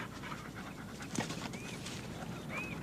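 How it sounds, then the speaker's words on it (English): A dog pants quickly and softly in rhythmic breaths close by, with a faint whimper or squeak mixed in and no speech. "Good doggy."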